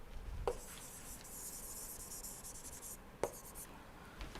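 Chalk or marker scratches across a board during an engineering lecture, a steady hiss of strokes broken by two sharp taps, quiet and close with no talking.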